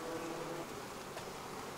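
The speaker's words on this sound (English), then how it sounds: "take these bees and shake these girls into that hive." Honey bees being shaken from a frame into a hive during winter preparation, a dense steady buzzing hum of many insects, close and continuous without talk.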